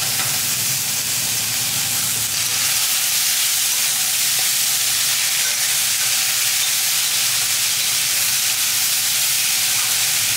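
Chopped green beans sauté with turmeric in a pan, a steady close sizzle and frying hiss that runs throughout without pause.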